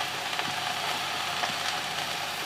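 Prawn and ridge gourd curry being stirred in a pan with salt and turmeric, giving a steady, low sizzle with soft scraping of the spoon, close and continuous with no talking.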